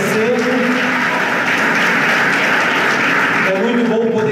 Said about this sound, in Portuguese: Dê uma salva de palmas bem forte a Jesus.